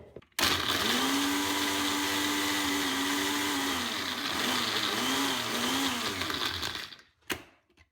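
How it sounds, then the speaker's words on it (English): A small NutriBullet blender grinding biscuits runs as a loud, steady motor whir for about seven seconds, its pitch wavering slightly as the crumbs shift, then cuts off abruptly with a short clatter. "since the NutriBullet is quite small, I'm only going to be blending a few biscuits at a time."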